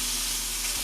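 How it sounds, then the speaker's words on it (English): Steady, close sizzling of chicken sautéing in a hot pan, a constant crackling hiss with no voices. "You guys hear that sizzle?"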